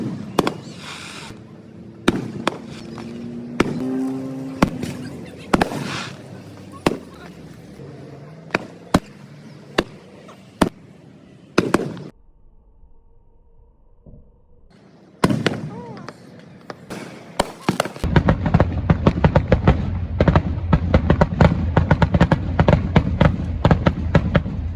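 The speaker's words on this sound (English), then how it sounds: "we're waiting for the fireworks to start." Fireworks go off on the night of July 3rd at Olcott on Lake Ontario, a string of sharp bangs and crackles, some distant thuds, then a dense continuous barrage toward the end, with people talking in the background.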